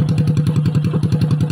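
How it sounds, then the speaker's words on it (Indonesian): Motorcycle engine running just after its newly assembled wiring is connected, a close, loud, rapid rhythmic chugging idle with regular thumping pulses throughout. "Langsung saja kita akan coba nyalakan mesin."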